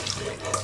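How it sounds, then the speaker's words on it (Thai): Water is poured in a kitchen while boiling squid, a brief, close, steady splashing gush lasting under a second. "พอดีแล้ว เราก็เทน้ำลงเลย"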